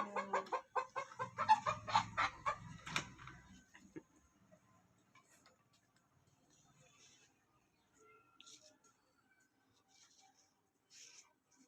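Hens cluck close by at a newly built chicken coop, a quick run of loud clucks over the first few seconds before the yard falls almost silent with only faint scattered sounds.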